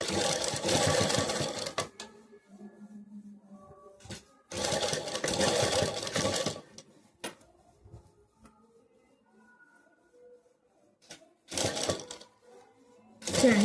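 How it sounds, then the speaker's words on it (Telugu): A sewing machine stitches a work blouse decorated with small mirrors in close, rapid bursts of whirring and clatter, each lasting one to two seconds, separated by quiet pauses with soft handling clicks. "ఇప్పుడు ఇలా దీనిపైన పెట్టి నేను ఈజీగా కుట్టేసుకుంటున్నాను అనమాట"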